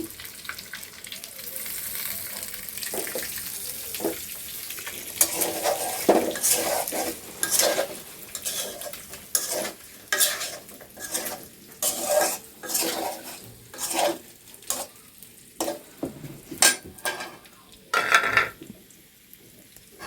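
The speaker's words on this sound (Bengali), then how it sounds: "আমি এখন আলু দি ভেজে নিব তেলে" Potatoes frying in oil that was used for fried eggs, with a steady sizzle under repeated scrapes and clanks of a spatula against the pan as they are stirred, close and fairly loud, no voices.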